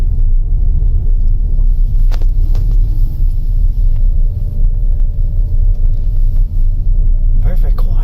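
Steady low road rumble fills the cabin of an electric car on the move, a constant deep drone with occasional faint knocks and a brief voice near the end.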